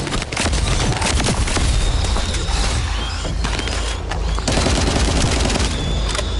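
A turret in The First Descendant shooter game fires rapid, loud, continuous bursts, mixed with mechanical clanks and a brief lull midway before the barrage resumes.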